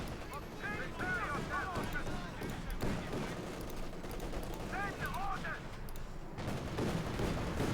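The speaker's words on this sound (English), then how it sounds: "Rocket off into the rear of the T-34" Rocket fire and cannon blasts in a Company of Heroes 2 battle with a T-34 tank, dense rumbling explosions and bursts of gunfire throughout, with a voice talking over the combat.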